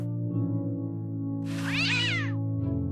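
A cartoon cat in the Day of the Tentacle adventure game lets out one loud, drawn-out wavering meow over a steady musical drone, followed by a brief fainter mew.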